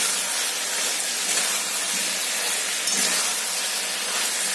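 Potatoes sizzle and hiss steadily in hot oil in a pan, a close, even frying sound with no talking.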